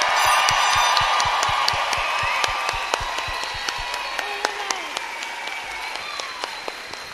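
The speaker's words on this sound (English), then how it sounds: "How about a loud round of applause for all the graduating Latinx students from California State" Applause at a graduation ceremony for graduating Latinx students of California State University, Fullerton: a broad crowd clapping and cheering with some sharp individual claps and whistles, slowly fading.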